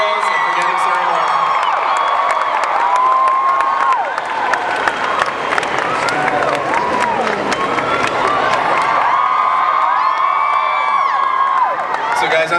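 Big Comic-Con 2009 hall crowd cheering, whooping and applauding loudly and continuously as guests Freddie Highmore and Kristen Bell are welcomed on stage, with shouts rising over the dense clapping.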